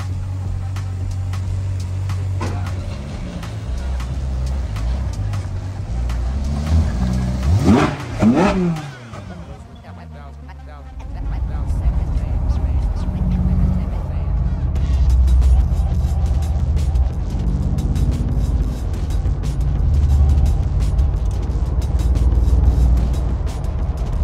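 Cars pulling away in a convoy with a Ferrari leading, engines revving loudly and building up, with a deep rumble, a brief dip, then sustained engine drone as they drive off.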